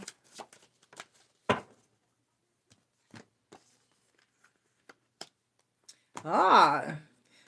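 Tarot cards are shuffled in short, sharp riffles and snaps with pauses between, ending in a longer burst of a voice.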